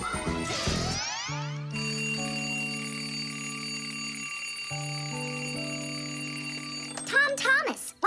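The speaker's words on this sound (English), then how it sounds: "Tom Thomas, why is your alarm clock ringing in the middle of the night" A cartoon alarm clock rings in a steady, loud, sustained bell-like tone for several seconds, pausing briefly midway before resuming, with a short burst of jingling at the start and brief vocal sounds near the end.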